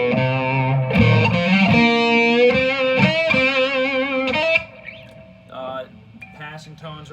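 A distorted electric guitar plays a bluesy lick from a guitar solo, with sustained bent notes and quick passing tones ringing up close, then thinning out into softer, sparser picked notes near the end.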